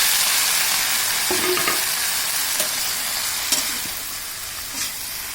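Okra frying in a pan over a village clay stove, a loud continuous sizzle with a few soft scrapes and knocks of stirring near the end.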